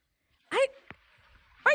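A dog just pulled from water gives two short, close whimpering yelps separated by a pause.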